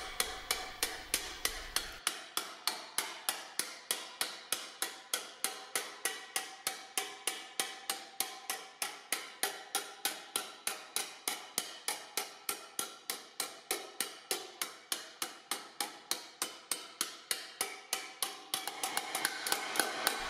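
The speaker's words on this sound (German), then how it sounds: "wird das Blech mit einem Glättehammer flach getrieben. Dies erfolgt mit weichen Schlägen," Planishing hammer tapping sheet metal flat on a hand anvil with soft, glancing blows, a long, steady, rapid series of light metallic strikes close by, roughly three or four per second, with no voices.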